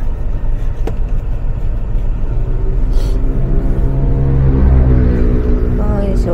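Heavy road traffic surrounds a vehicle in a jam: a loud, steady low rumble of engines with a swelling drone toward the end and a few faint sharp clicks.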